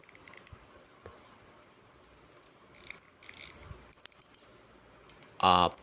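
Short bursts of rapid mechanical ratchet clicking from a Seasir OER 2500 fishing reel being cranked, separated by quieter pauses; the final burst is the loudest and closest.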